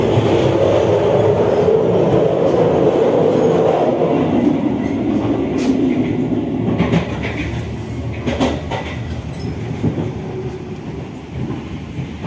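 An economy-class passenger train rolls toward Yogyakarta station with a steady loud rumble heard from inside the carriage, carrying faint rail clicks and small rattles as it eases off slightly near the end.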